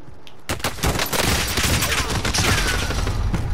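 Dense, sustained gunfire from all directions in Call of Duty: Modern Warfare, a loud continuous fusillade of rapid shots starting after a brief quiet moment and rolling on without pause.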